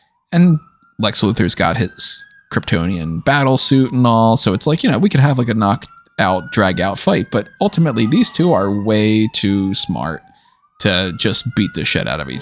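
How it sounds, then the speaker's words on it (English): Emergency vehicle sirens pass in the background, a faint rising and falling wail running steadily underneath continuous close talking by a man. "And I apologize for the sirens in the background"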